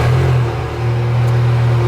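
A VW GTI with a big turbo engine revs through a custom DRUWERKS exhaust, a loud, steady low rumble holding close for the whole moment with a slight dip midway.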